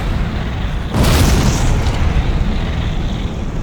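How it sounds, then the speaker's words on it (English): A massive explosion erupts suddenly in a Korean horror video game, a loud broadband boom about a second in that swells over a steady rumbling background and then settles into a sustained roar as fire spreads. "a massive explosion happens out of nowhere and fire starts engulfing the entire place"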